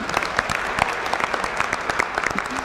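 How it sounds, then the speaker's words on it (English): A commencement crowd claps steadily and continuously, a dense patter of many hands filling the whole stretch. "I know, we should clap to that too."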